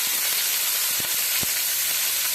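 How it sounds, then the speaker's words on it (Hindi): Onions sizzling in a cup of hot oil in a pan, a loud continuous frying hiss with a couple of soft stirring knocks. "प्याज को साफ होने तक पकाएंगे।"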